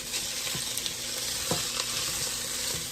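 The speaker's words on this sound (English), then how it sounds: "We want our onions to get just a little bit of color to them in here." Onions and garlic fry in a pan with a steady, close hiss, broken by a few soft knocks as they are stirred.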